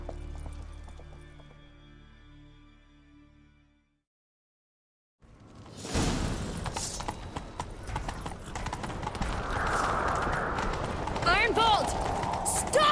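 After a brief silence, galloping hooves pound in rapid rhythm in The Witcher 3, loud and close, with a voice briefly under the drumming gallop.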